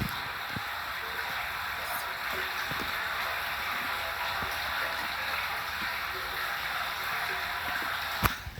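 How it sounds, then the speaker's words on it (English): Water in an outdoor creek flows and rushes in a steady, close hiss, with a few faint knocks and one sharp click near the end. "There's more water."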